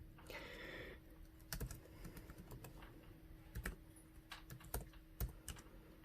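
Computer keyboard typing in a username and password: bursts of quiet key clicks in irregular clusters, close and faint, with a short rustle at the start and no talking.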